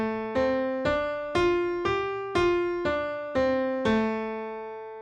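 Eight evenly spaced plucked notes spell out a minor pentatonic scale, each clear and ringing with a quick attack and gentle decay, moving up and back down in a steady rhythm with no talking.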